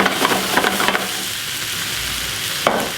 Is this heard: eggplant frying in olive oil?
yes